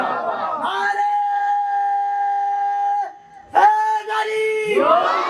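A crowd chants religious slogans at a devotional gathering, responding in unison to a lead caller in loud, sustained shouted phrases, with a brief gap before the next chant rises again.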